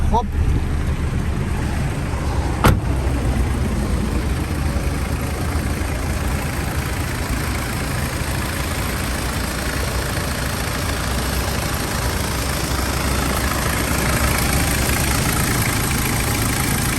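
A 2001 Mitsubishi Strada pickup with a 2.8-litre engine and factory automatic gearbox idles steadily, giving a constant low rumble with one brief click early on. Someone talks over the engine.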